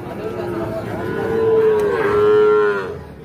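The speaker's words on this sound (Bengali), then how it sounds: "তো দেখছেন এগুলো সব কিন্তু ষাঁড় বাচ্চা" Young bull calves, about three months old, at Ambari cattle market; a single loud, drawn-out moo rises and holds for about two seconds, close by, over a low murmur of market noise.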